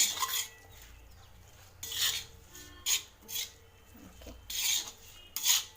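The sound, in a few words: okra being stir-fried on a tawa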